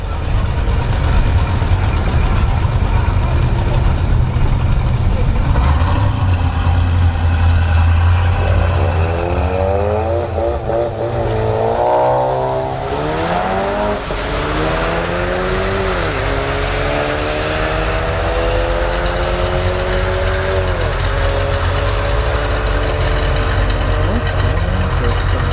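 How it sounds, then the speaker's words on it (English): A red Chrysler 300 and a small Volkswagen at a drag strip start line, engines rumbling loudly with rising and falling revs, over a constant crowd and track background with a voice speaking. "Red Chrysler 300, taking on a little Volkswagen."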